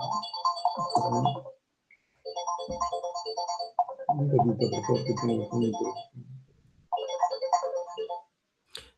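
A mobile phone ringtone plays during a Spanish-language meeting, a repeating melodic tune in bursts separated by short pauses, loud and close with no talk over it.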